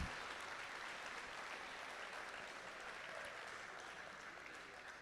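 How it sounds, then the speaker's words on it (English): Applause from the audience at a FIRST robotics qualifier in the Finger Lakes honours the event volunteers. It is an even, continuous wash of clapping, fairly distant and quiet, lasting the whole span. "Please give a big round of applause for all the volunteers who have given their time, effort, dedication, and so much more to champion the game"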